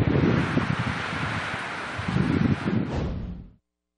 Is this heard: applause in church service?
no